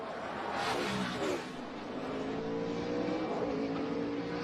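NASCAR race cars roar through a high-speed section of a road course toward a turn, engine noise loud and steady, with a car sweeping past near the start.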